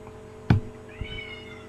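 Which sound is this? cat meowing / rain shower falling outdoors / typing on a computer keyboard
cat meowing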